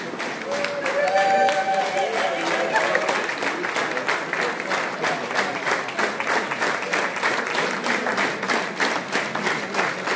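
Sustained, loud audience applause at a pre-feast folk singing event in Tasovice, with dense, steady clapping throughout and some voices and tones audible early on.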